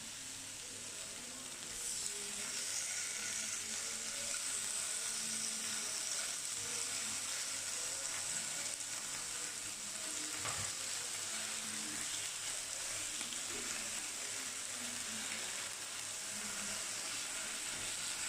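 Grilled prawns coated in spice paste, Jimbaran-style Balinese dish, sizzling steadily on a hot grill, a continuous close hiss and crackle with a faint background hum throughout.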